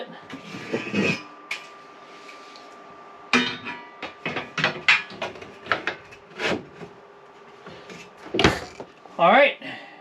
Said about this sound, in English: Now just pull this drawer out a little bit.